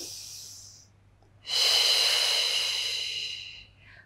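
One long, audible inhale during a Pilates mat exercise: a brief faint breath, a pause, then a strong close airy intake lasting about two seconds that fades out.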